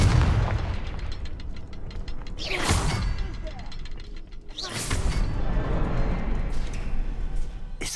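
Magical Confringo blast spells in a Hogwarts video game: two sharp, bright explosive bursts a couple of seconds apart, layered over a steady mechanical rumble and ambient game noise.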